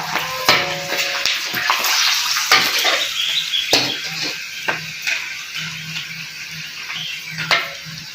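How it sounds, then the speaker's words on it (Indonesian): Kerupuk crackers frying in hot oil in a home kitchen, bubbling sizzle with sharp crackles and pops and occasional stirring clatter. "Nak goreng kerupuk ki perlu sabar"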